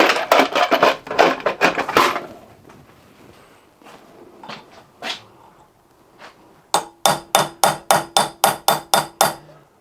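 A hammer strikes a well-used centre punch on a two-stroke barrel during a broken stud repair, first in a quick cluster of blows, then a steady run of about a dozen evenly spaced, ringing metallic taps.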